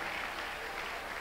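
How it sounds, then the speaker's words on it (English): A church congregation clapping during a Tuesday miracle service, a brief, dense and steady burst of many hands applauding together. "Let's appreciate the Lord by clapping unto him."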